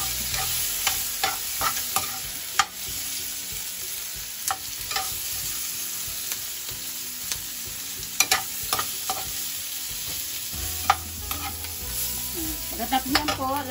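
Zucchini sautés in a pan for ginisang zucchini, giving a steady loud sizzle under repeated scraping and stirring from a utensil, heard close with no one speaking.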